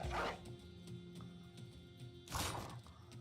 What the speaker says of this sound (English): we can drop a War Dog.